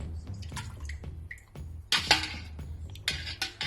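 Water dripping and trickling from brined chicken fillets set to drain for chicken ham, with irregular small splashes and a few clinks of dishes, close and moderately loud, no talking.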